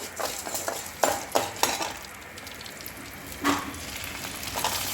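Red chillies, garlic and shallots sauté in oil in a pan with a soft continuous sizzle, interrupted by a few sharp spatula clinks against the metal.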